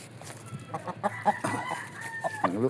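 A rooster clucks in short, close, irregular bursts, with a brief higher crowing note near the end.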